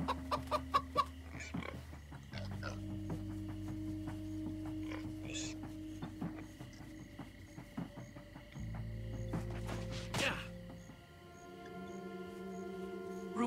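Chickens cluck repeatedly in the Minecraft Story Mode video game, with layered game music and ambient tones sustained underneath.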